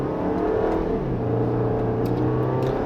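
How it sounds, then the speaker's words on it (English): 2016 Audi Q3 with the older 2-liter turbocharged four-cylinder engine accelerating, a steady droning engine note heard from inside the cabin that rises gradually in pitch. "Really what you hear is the engine, and it honestly sounds like I'm driving the 2-liter diesel engine."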